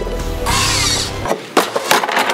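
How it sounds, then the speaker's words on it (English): A heavy power drill bores into material, its loud whine steady for about a second before breaking into short, rough bursts and knocks. "That's a heavy drill."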